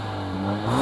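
A Mercedes A45S hatchback with its stock exhaust revs at a standstill, the engine tone climbing steadily and growing louder toward the end, close and continuous.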